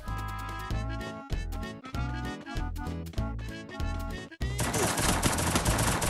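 Gunfire in the Free Fire mobile battle royale game: loud bursts of rapid shots with rhythmic music-like pulses, ending in a sustained dense burst of fire.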